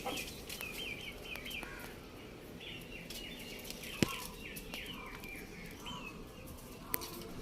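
A native hen settled in a cardboard carton to lay eggs on a farm, giving soft, scattered clucks and chirps at moderate distance over a steady background hum, with a couple of sharp knocks.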